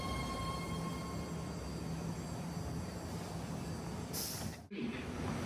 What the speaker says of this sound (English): This is a yellow line train to San Francisco.